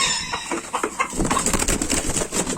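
Brown Nick hens and a rooster let out of a delivery box, clucking and squawking close by with bursts of wing flapping and scuffling, busy and continuous without talk.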